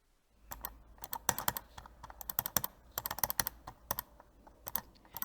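Rapid, irregular plastic clicks from a computer mouse, some in quick bursts and others spaced apart, close up and fairly quiet with no talking.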